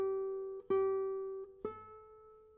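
Plucked guitar notes played with thumb or fingers in a simple rhythm: two quick eighth notes, then sustained ringing notes, three clear attacks that ring out cleanly and close, with no voice over them.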